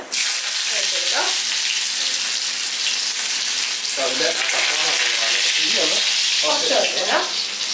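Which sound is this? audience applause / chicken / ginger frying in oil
ginger frying in oil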